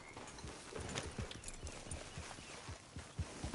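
Steady clip-clop of horse hooves walking at an even pace in a video game, fairly close, with a faint ambient background and no talking.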